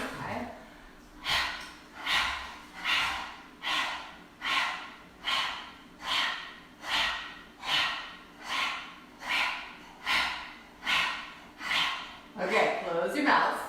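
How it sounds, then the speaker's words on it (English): Rapid rhythmic panting breaths through an open mouth with the tongue out, a kundalini yoga breathing exercise, about a dozen evenly spaced loud huffs, close and steady, with no talking over them. "And then panting like a dog from your navel point."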